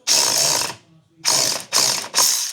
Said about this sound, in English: And we can use our battery ratchet to take it up and down.